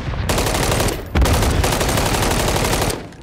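Rapid automatic gunfire in a shooter video game, dense loud bursts of shots rattling almost continuously with a short break near the start and another after one second, close and harsh.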